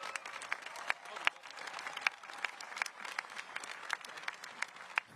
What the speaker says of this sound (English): let's get one more round of applause for all of the Akins faculty and staff that are here with us today.